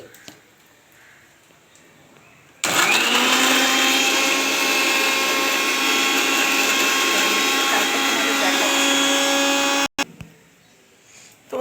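Mixer grinder blending spinach, green chili, ginger, garlic and coriander into a paste, roaring loudly and steadily for about seven seconds, then cutting off abruptly with a brief restart; quiet room before and after.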